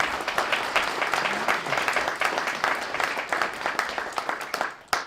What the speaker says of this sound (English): please, a round of applause for Dimitri for doing such a great job